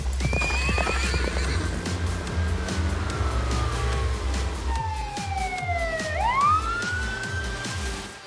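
Steady rhythmic clip-clop of horse hooves close by, with a horse whinnying and a siren wailing and sweeping in the background.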